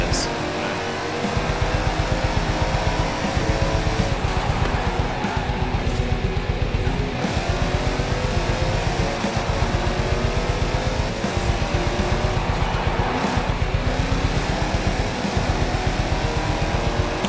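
A Warthog vehicle engine drones while being driven in the video game Halo, a loud, steady rumbling hum with a rapid pulsing texture that holds at constant pitch, briefly dipping a couple of times as throttle eases, with no talk.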